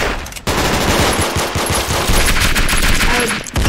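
Gunfire in a video game, loud rapid and constant through the whole stretch, with shotgun blasts mixed into dense automatic fire.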